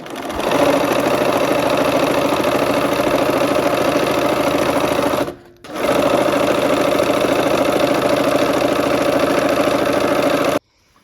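Sewing machine stitching quilt block pieces with lime green strips, running steadily and loud for about five seconds, a brief pause, then another long continuous run before stopping abruptly.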